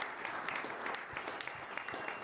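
A studio audience at a community college president's interview claps steadily, a dense, even wash of applause at moderate distance with no talk rising above it.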